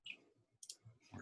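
Quick computer mouse clicks made while starting screen sharing on a video call, a few faint, close clicks spaced unevenly over about a second, with light background noise.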